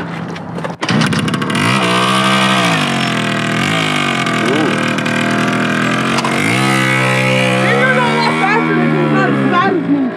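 A Red Honda CT90 motorcycle is ridden nearby, its small engine revving up and down in repeated rising whines, loud and continuous, with people talking over it.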